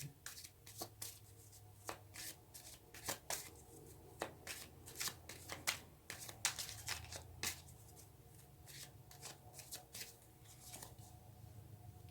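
Tarot cards being shuffled by hand, a close, crisp run of riffling slaps and flicks in irregular bursts throughout, with no voices.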